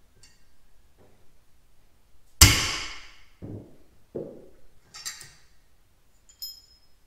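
A bushing coming out of a pulley on a Case 1845C skid steer, one sharp metallic clank followed by a few duller knocks and light rattles in a quiet space.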